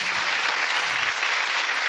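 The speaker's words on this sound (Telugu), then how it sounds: "క్లాప్స్ కొట్టినమ్మ" Sunday School children clap together in a steady burst of applause that fills the room. It is loud and continuous, with no talking over it.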